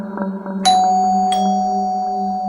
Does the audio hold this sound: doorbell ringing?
yes